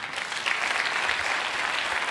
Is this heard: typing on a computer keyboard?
no